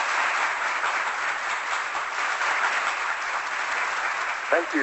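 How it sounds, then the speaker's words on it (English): Steady applause from an audience fills the few seconds, dense and even, heard somewhat distant and muffled. "Let me give you a roaring round of applause"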